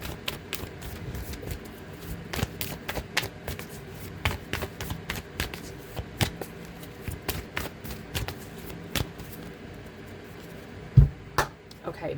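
Tarot cards are shuffled steadily by hand for several seconds, a continuous patter of soft taps and riffles, close and quiet, with a couple of louder knocks near the end.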